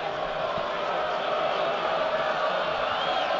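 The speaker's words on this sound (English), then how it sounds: "the crowd giving Charles Cook in the Bromley goal some stick" Football crowd at a National League play-off eliminator between Woking and Bromley, jeering the Bromley goalkeeper: a steady, dense roar of voices from the stands, continuous throughout.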